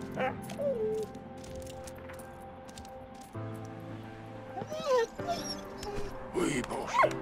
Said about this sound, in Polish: I wtedy wysyłamy pieska.